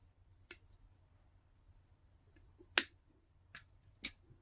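Snips of scissors or wire cutters cutting 18 gauge wire for a wire-wrapped crystal pendant: one short snip, then three sharper, louder cuts close together near the end, each crisp and brief over a quiet background.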